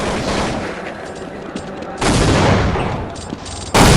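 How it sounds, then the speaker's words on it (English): Grenade blasts and gunfire in a Counter-Strike esports match at a grand final, arriving as loud bursts with a big blast near the start and another at the end, with commentary spoken over the action. "Oh, he got hurt by that grenade."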